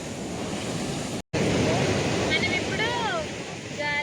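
Surf at Yarada Beach in Vizag rushes in a continuous broad wash at sunrise, loud with wind buffeting the microphone, broken by one brief dropout, while a voice speaks faintly over it.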